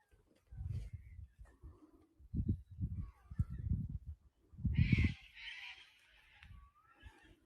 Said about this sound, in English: We hear the sound of birds.